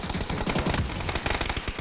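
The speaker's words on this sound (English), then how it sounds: "nice shots from Vinny. The FAMAS is a nasty weapon" Rapid automatic FAMAS rifle fire in a competitive video game match, a dense burst of sharp repeated shots running continuously at steady loudness with no talk over it.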